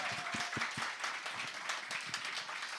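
A studio audience claps on a Korean talk show, a modest patter of scattered hand claps at close to medium range, steady for a few seconds with no talking.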